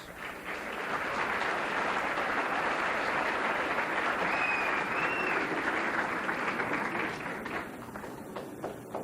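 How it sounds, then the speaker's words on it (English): At the 1988 Miss Paramount Pageant, an audience gives a sustained round of applause for an event helper, a dense, even roar of clapping that holds for several seconds and then thins gradually toward the end. "Let's give him a round of applause."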